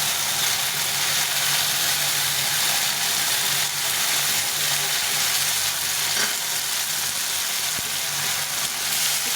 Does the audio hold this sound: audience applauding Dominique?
no